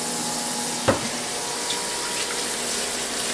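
Kitchen tap water running steadily into a sink as food is rinsed under it, a constant close wash of noise with one brief knock near the start.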